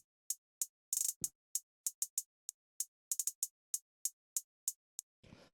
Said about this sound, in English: So this is just like a pretty straightforward kind of like trap hi-hat